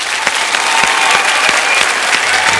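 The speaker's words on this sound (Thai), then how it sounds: "ขอเสียงเชียร์หน่อยครับ" A studio audience at an Iron Chef Thailand cooking battle applauds loudly and evenly, a dense wash of clapping with a few sharper claps standing out.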